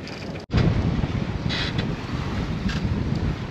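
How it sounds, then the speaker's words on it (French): Strong wind gusts rush across a sailboat at sea, a steady loud roar of wind buffeting the microphone with surging pulses, broken by a brief dropout early on. "On a des belles rafales de temps en temps."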